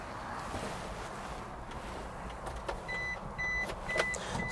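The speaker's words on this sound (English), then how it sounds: "It's beeping because I've got the door open." A steady electronic door-open warning beeping chimes repeatedly in the last couple of seconds over a low background hum inside a 2007 Suzuki Carry kei truck.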